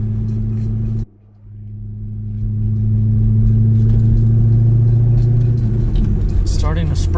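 A C6 Corvette drives toward the Franklin Mountains in El Paso on a rainy day. A loud, steady low engine drone fills the cabin, drops out briefly near the start, then swells back and holds.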